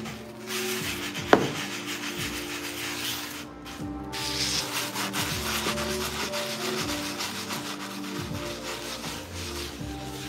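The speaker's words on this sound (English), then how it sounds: "we're just gonna use that same lemon to scrub it and get those stains out" A halved lemon scrubbed across a stained wooden cutting board gives a steady, close rubbing and scraping texture throughout, with one sharp knock near the start and no talking.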